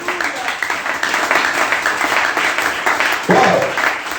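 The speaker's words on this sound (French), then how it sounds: "Il s'agit de Jésus, là on acclame." A church congregation breaks into sustained applause and clapping, a dense wash of hands filling the space with a louder surge near the end, mixed with voices and cheering.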